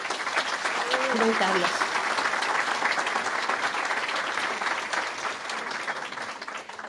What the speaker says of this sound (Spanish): Un gran aplauso a